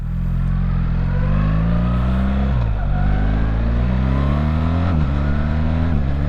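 A BMW R1300GS motorcycle accelerates through its gears using the quick shifter, its engine note rising steadily with short dips at each upshift, loud and close under continuous wind rush.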